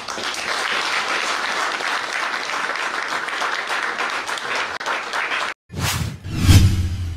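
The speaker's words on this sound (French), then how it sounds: "Une acclamation pour le Seigneur." Loud, dense applause from a church congregation acclaiming the Lord, sustained for several seconds, cutting out briefly before a couple of sharp whooshing bursts.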